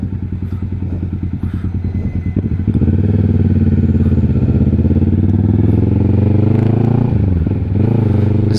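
A Triumph motorcycle engine runs during a test ride, loud and close, its steady throb rising as the throttle opens and holding a sustained drone with a brief dip near the end.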